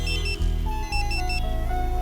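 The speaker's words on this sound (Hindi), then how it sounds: "भाई आपका फोन बज रहा है।" A phone rings during a Hindi film scene, a bright electronic ringtone repeating in short tonal bursts for about two seconds over a steady low background bed.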